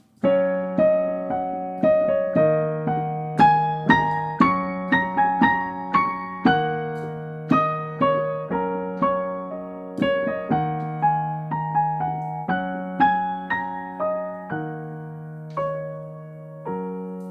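A solo piano plays a flowing melody, moving between single notes and doubled octaves in the upper register over steady lower chords, clear and close.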